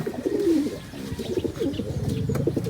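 Pigeons coo close by, giving several soft, throaty coos in a loose repeating rhythm over faint background noise, with no talking.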